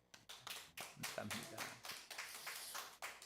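A church congregation at a worship service claps for a guest lecturer, a crowd of hands in uneven bursts that swell and fade while a voice speaks over them.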